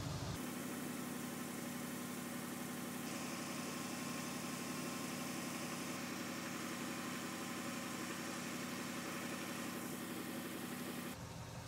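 A Toyota Tundra 4.7 engine idles steadily and evenly throughout, a constant low rumble with no voices, starting and ending abruptly.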